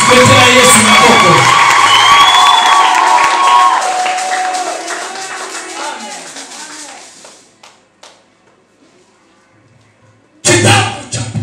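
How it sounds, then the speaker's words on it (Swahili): A church congregation cheers and claps loudly at first, then the noise gradually fades to near silence before a burst of voices and clapping returns near the end. "Nataka nisikie makofi"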